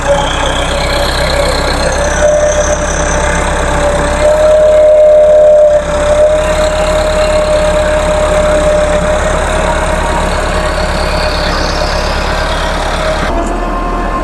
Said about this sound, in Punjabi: ਮਲਕ ਸਾਹਿਬ ਜੀ ਟਰੈਕਟਰ ਡਰਾਈਵ ਕਰ ਰਹੇ ਨੂੰ ਬੰਨ ਦੀ ਮਜ਼ਬੂਤੀ ਵਾਸਤੇ।